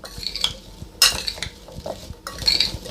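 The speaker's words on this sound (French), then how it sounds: "Et on mélange." Vegetables being stirred with sumac in a bowl for an air-fryer autumn vegetable dish, heard as close clinks and scrapes of a utensil against the bowl in an irregular rhythm, with no talking.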